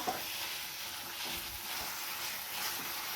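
A fenugreek leaf curry with apple sizzles in a pan as it is stirred, a soft, even frying hiss with faint scraping and no talk.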